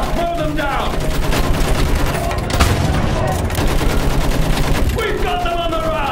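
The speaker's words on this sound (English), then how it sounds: "Use that machine gun!" Sustained machine gun fire rattles loud and close in a World War I battle in the game Battlefield 1, with dense bursts, scattered booms and shouting voices underneath.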